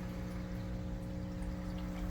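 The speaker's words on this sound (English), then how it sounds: "Water flows perfect." Water flows steadily through an aquarium surface skimmer filter. It makes a continuous close trickling rush over a constant low motor hum, without pauses or voices.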